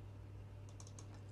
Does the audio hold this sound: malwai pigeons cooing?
no